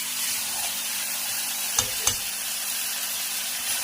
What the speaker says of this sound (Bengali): দেখতেই পাচ্ছ মাংসটাকে কষানো হচ্ছে